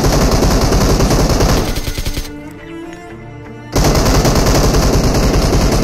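Loud, rapid automatic gunfire from an online multiplayer shooter game, sustained bursts that briefly drop away to a quieter lull before the fire resumes at full intensity.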